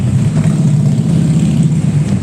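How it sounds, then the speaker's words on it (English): A loud motorbike engine on a city street near the Block Arcade makes a strong, steady low rumble that holds close and dominant throughout. "Geez, that motorbike's loud."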